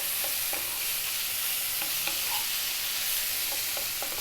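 Sliced ham sizzles in a hot pan, a steady loud hiss with occasional crackles and light stirring taps, close up and without speech.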